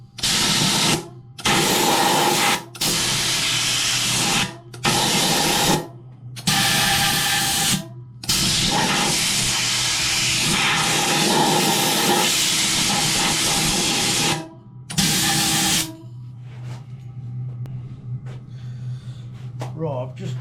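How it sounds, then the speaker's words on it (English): Compressed air blasts in repeated short bursts into an old 100-year-old fuel tank to clear out muck, loud hissing rushes separated by brief pauses, ending with a quieter low hum. "A quick blow out of all the muck."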